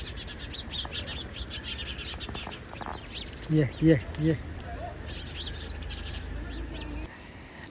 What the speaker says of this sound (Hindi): बहुत सारे पक्षी आ रहे हैं यहाँ पर। गौरैया